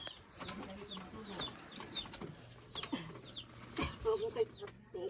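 Chickens cluck and squawk in short bursts amid a busy outdoor scene, with birdsong chirping in the background and people talking nearby.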